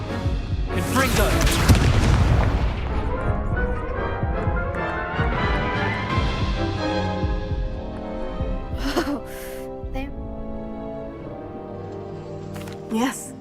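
Heavy booming blasts of the Confringo fire spell in Hogwarts Legacy, a big explosion early then rumbling bursts and later sharp cracks, loud and close, with a voice speaking over parts.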